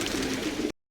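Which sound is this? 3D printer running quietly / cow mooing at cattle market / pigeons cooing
pigeons cooing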